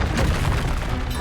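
A Bombarda explosion spell goes off in Hogwarts Legacy, a loud, close, rumbling boom that fills the whole moment and rolls on without a clear decay.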